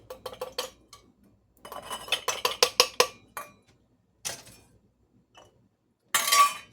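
Small dry English peas rattle and clink into glass canning jars in quick bursts of tiny hard ticks, with short pauses between pours and a louder jar clatter at the end, close up with no voices.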